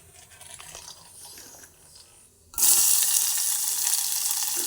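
A cinnamon stick and a bay leaf in hot oil in a pan for egg biryani. After quiet kitchen clatter, a sudden loud, steady hissing sizzle begins and keeps going.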